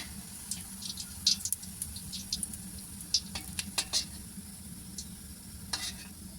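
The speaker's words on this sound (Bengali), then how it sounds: "এরমভাবে আমি একটার পর একটা ভেজে নেবো" Jaggery pitha cakes fry in a pan with a soft, continuous sizzle, broken by scattered light clicks and scrapes of stirring. The sound is quiet and close, and no one talks.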